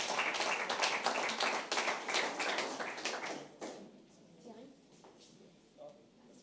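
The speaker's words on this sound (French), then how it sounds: "On peut l'applaudir. Bravo." A burst of applause from a small audience at a diploma ceremony, brisk clapping for a few seconds that then thins out to scattered claps.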